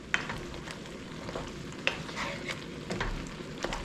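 An eggplant and chickpea skillet sauce reducing over high heat, a continuous bubbling sizzle with small pops and occasional sharper spits, close and steady with no voices.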